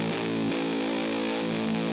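Electric guitar played through a ProCo RAT distortion pedal at full distortion, giving a thick, muddy, saturated sustained chord with audible noise, loud and steady throughout, with no voices.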